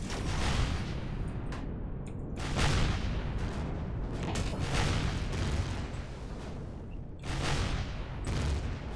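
Base buster weapons in the Empyrion space game fire at enemy turrets in a rapid series of heavy booming blasts that keep coming, loud and close, with only brief lulls between volleys.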